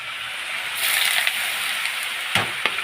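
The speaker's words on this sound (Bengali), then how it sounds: "এই যে তেলও গরম হয়ে গেছে, তাই দেখো আলুটা দিয়ে দিই।" Potatoes frying in hot oil in a home kitchen, a steady broad sizzle that swells louder after a moment, with a few sharp clicks and knocks near the end.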